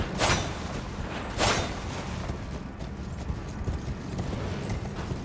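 Hooves thud in a fast, steady rhythm as a horse is ridden through an underground area in Elden Ring, with a couple of sharp whooshing bursts cutting through the steady galloping noise.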